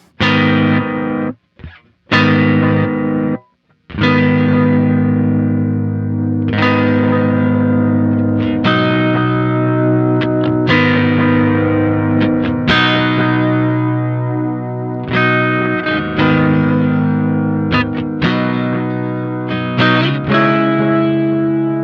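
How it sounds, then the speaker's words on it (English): Sustained electric guitar chords through a Bleak District Electric Tapescape pedal, thick distorted tape-style echo with feedback rising, the repeats building and smearing into each other as the trails grow longer. "as we start to turn the feedback up, we're gonna get more and more repeats"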